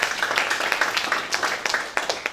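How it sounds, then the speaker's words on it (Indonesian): A seminar audience gives brisk, scattered applause that stays fairly close and even for a couple of seconds, with many hands clapping at once. "Kita beri tepuk tangan yang meriah untuk kita hari ini."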